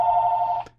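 A telephone rings once in a steady, loud electronic tone for under a second, then cuts off abruptly, with no voices over it.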